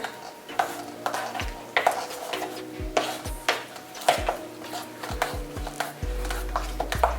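Cake batter for a simple carrot cake being mixed in a bowl: irregular close scraping and knocking of a utensil against the bowl, with scattered sharp taps over a quiet background.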